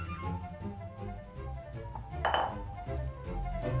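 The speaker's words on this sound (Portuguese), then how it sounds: "E vamos mexer até desgrudar da panela." Scraping and clinking in a pan as thick pastry dough is stirred until it comes away from the pan, with a sharper metallic clink partway through.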